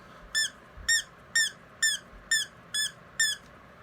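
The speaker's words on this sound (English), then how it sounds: "I have my R2-D2 that still squeaks." An original vintage R2-D2 toy squeaking, seven evenly spaced bright electronic chirps in a steady rhythm, close and clear, with no talking.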